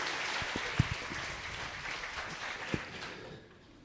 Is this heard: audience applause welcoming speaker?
yes